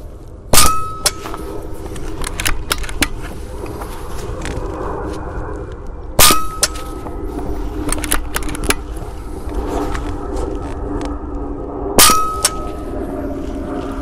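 Three loud metallic clangs of rifle shots hitting an old thick aluminium DVD player ring out a few seconds apart, each leaving a short ringing tone, with small rattles and shuffling in between.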